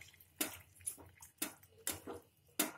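Water is poured into a pan of cucumber and grape curry as it cooks, giving about five soft splashing gulps at a steady rhythm, close and quiet, with no talking.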